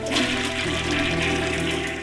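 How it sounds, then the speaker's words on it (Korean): A toilet flushes loudly and steadily, water rushing and gurgling close by for the whole stretch. "옷에서 단추를 발견하자 변기물로 흘려보내는데"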